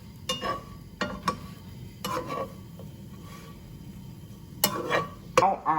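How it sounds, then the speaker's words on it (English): A spoon scrapes and clinks against a pan while a snack mixture with black pepper is stirred, several sharp irregular taps and scrapes over a faint background sizzle. "Now I'm going to mix them together."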